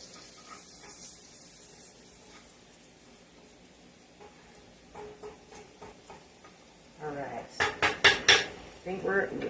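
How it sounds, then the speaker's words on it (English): Utensils scrape and clank against a pot while breaking up large pieces of mirepoix, quiet scraping at first, then a loud run of sharp metallic knocks near the end. "Just trying to kind of chop up some of these larger pieces here."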